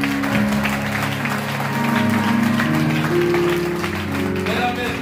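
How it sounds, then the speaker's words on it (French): A church congregation applauds steadily throughout, a dense, sustained clapping with music tones held beneath it and murmured voices mixed in. "On va demander encore une fois applaudir."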